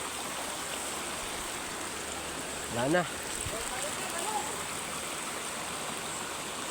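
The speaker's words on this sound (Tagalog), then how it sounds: "Ay, ito may talon pala dito." A river waterfall and flowing stream give a steady, broad rushing hiss throughout, close and constant, while someone briefly speaks over the water noise.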